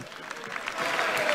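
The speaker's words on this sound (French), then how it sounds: "Agnès Buzyn qui est malgré tout applaudie par sa majorité en soutien." Brief applause in the French National Assembly during government questions, a short burst of clapping from a group that swells slightly toward the end, heard alone.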